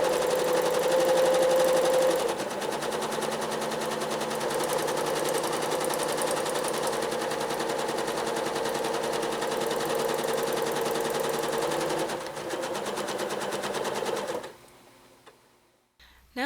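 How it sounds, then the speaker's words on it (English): A sewing machine stitches a circuit board quilting pattern, running loud and steady with a fast, even whir for about fourteen seconds, then slowing and stopping. "it's far easier to understand what I'm doing if you can hear the machine"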